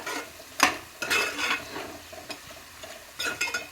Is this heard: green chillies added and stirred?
yes